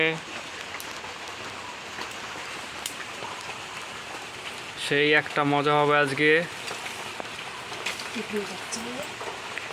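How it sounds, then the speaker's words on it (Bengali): Light rain falls steadily outside during a Bengali khichuri cooking session, a soft continuous patter throughout while a voice speaks briefly over it midway. "আর বাইরে ঝিমঝিম করে বৃষ্টি পড়ছে।"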